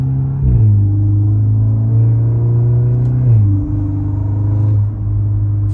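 A loud, deep car exhaust drone with the exhaust valves open rumbles steadily close by, its pitch dipping and rising with brief shifts in engine speed. No voices.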